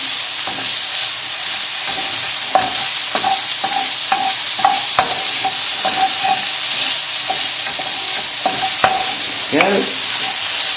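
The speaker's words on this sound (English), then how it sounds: "You just want to get a bit of colour onto the bacon. Just keep moving everything around in the pan" Bacon sizzling loudly in a pan while a utensil repeatedly scrapes and clatters against the metal, knocks spread unevenly through the steady frying hiss, with no speech.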